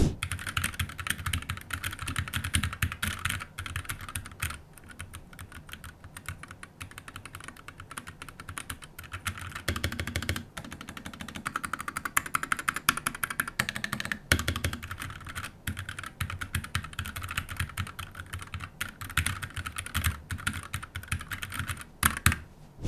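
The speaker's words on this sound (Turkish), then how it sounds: "Sesten bahsetmişken gelin şimdi bir de klavyenin sesini sesini dinleyelim." Continuous rapid typing on a clicky SteelSeries Apex 9 Mini mechanical gaming keyboard, keys clattering close up in a steady, busy stream with brief pauses.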